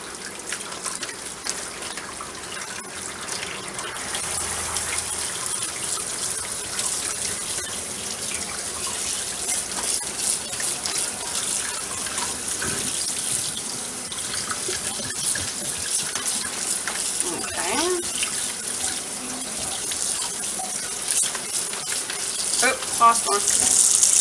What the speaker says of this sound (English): I'm just going to run these under cold water